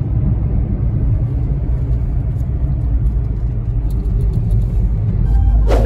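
A car climbs a winding hill road at Ajodhya Pahar in Purulia. A loud, close engine rumble and road drone hold steady throughout, heard from inside the vehicle with no talking.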